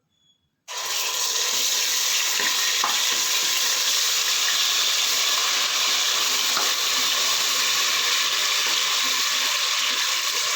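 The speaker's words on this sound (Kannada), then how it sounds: "ಎಣ್ಣೆ ಬಿಸಿಯಾಗಿದೆ ಇವಾಗ ಅದಕ್ಕೆ ನಾವು ರುಬ್ಬಿಟ್ಕೊಂಡಿರೋ ಅರಿಶಿನ ಮತ್ತು ಈರುಳ್ಳಿ ಹಾಕೋತಾ ಇದ್ದೀನಿ" Ground turmeric and onion frying in hot oil for a fish sambar, a sudden loud sizzle as they hit the pan that settles into a steady, dense hiss held close and continuous.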